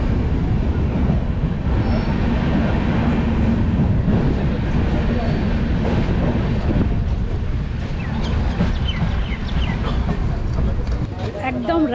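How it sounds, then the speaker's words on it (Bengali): Kanchan Kanya Express pulling into Bagdogra station, a steady loud rumble of rolling wheels and carriages with wind buffeting the microphone throughout, continuous and close. "একদম রাইট টাইমে ট্রেন এলো বাগডগরা স্টেশনে।"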